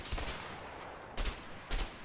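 Bursts of gunfire from the video game A Way Out, three short sharp volleys spaced across a couple of seconds, fairly near and loud with no talking over them.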